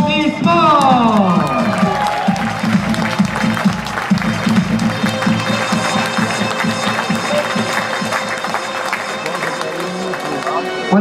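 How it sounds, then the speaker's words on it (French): Audience at a heavyweight competition finale in Saint-André-les-Vergers claps steadily and loudly throughout, a dense crowd ovation with some cheering and mechanical clicking mixed in. "s'il vous plaît, tous vos applaudissements."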